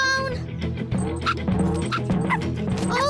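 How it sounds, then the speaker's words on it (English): A cartoon dog yips and whimpers in a run of short high barks and whines, some with a playful rising tone, over a soft music bed. "Here, Yip, come and get a doggy bone."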